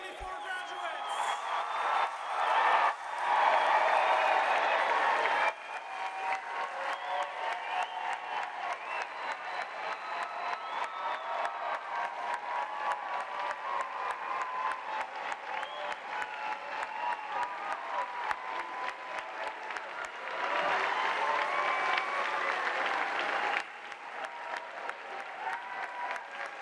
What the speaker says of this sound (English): Please give a round of applause for all of our 2024 graduates.